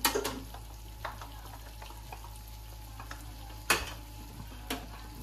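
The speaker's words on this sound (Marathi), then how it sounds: "त्यामध्ये 1 चमचा तूप घालते" A spoonful of ghee sizzles softly in a pan of bottle gourd halwa, with sharp scrapes and clicks from a spoon stirring it in, heard close and alone.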